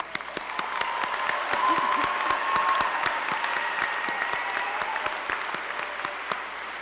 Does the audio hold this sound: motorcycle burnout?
no